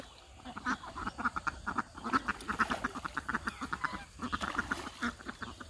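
Ducks quack in a village yard on a foggy winter morning, a busy overlapping flock calling in quick rhythmic bursts, loud and close throughout with brief pauses.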